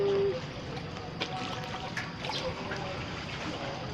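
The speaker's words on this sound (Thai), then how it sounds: "คุณผู้ชมน้ำแรงมากเลยน้ำไหลแรงมาก" Strong water flows and trickles steadily outdoors where fish gather, a continuous close rushing wash with a brief louder burst at the start.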